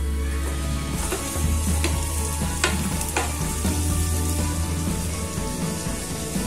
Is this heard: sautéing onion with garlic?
yes